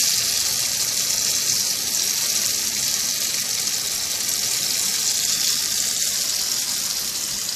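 Sweet paniyaram (unni appam) batter frying in hot oil gives a steady, dense sizzle with crackling, loud and continuous throughout, with no voices.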